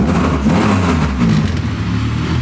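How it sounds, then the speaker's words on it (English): A Honda Civic EM1 engine starts and runs loudly and steadily close by, a deep idle rumble with slight rises in revs, no voices. "This might be the first time a car fired up first hit."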